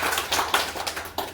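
A small group at a weekly business meeting claps for an aloe vera product, a short burst of a few distinct, fairly faint hand claps in an uneven rhythm.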